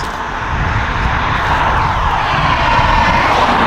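A steady, loud engine drone from a Chevrolet Camaro ZL1's supercharged V8, fitted with an aftermarket DSX supercharger lid, with a rising high-pitched supercharger whine over it, sustained and close throughout.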